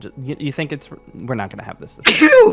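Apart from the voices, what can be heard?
sneeze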